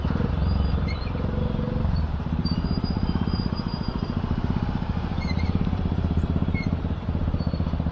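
A TVS Apache motorcycle fitted with an aftermarket exhaust, ridden through city traffic, gives a steady, close engine drone and rumble that runs throughout. Faint chirps and road noise sit around it.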